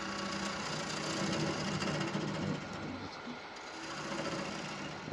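A blunt gouge finishes a bocote bowl spinning on a wood lathe, a faint, steady scraping and humming rub that softens partway through before continuing.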